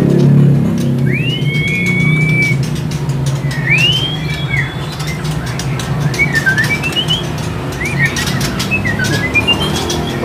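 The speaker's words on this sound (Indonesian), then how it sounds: "Wah, wow, ini ada burung murai medan trotol jantan ya." A male Medan magpie robin (murai trotol) gives rising, sweeping whistles followed by quicker bursts of short chirps. The calls are clear and fairly close, over a steady low background rumble.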